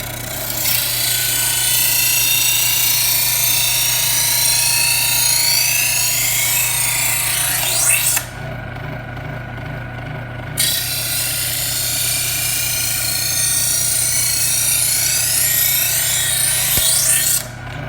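An electric knife sharpener hums steadily while a knife is drawn slowly through the coarse stone, giving a sustained rasping grind that pauses briefly midway and then resumes for a second slow pass.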